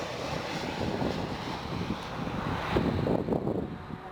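An airliner lands on runway 24 right at Toronto-Pearson airport, giving a steady broadband engine roar and rush with wind noise that swells slightly toward the end, heard from outdoors with no voices.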